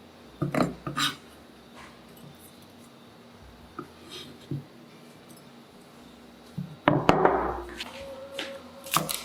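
A knife cuts scallion into small pieces with scattered soft taps on a cutting board, a brief burst of closer chopping and rustling later on, all fairly faint in a quiet room.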